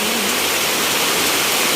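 Heavy-rain floodwater gushes into a home in a continuous, loud roaring rush that holds steady throughout, with no voices over it.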